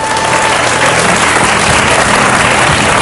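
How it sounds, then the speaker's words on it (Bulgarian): A studio audience on a Bulgarian television quiz show applauds in a loud, dense, continuous wash of clapping that fills the space without a break. "Аплодисменти първо."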